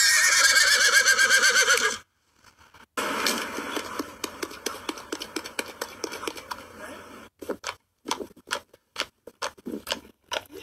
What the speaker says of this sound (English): Y'all know that sound them horses be making.